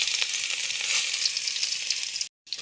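Chopped onions sizzle in hot oil with a steady bright hiss close up, briefly cutting out near the end, with no talk.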